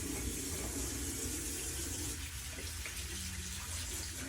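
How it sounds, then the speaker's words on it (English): Water runs from a tap into a sink as hands are washed in a hospital room, a steady, fairly quiet rush with faint splashing. "I'm going to just go over here in the corner and wash my hands."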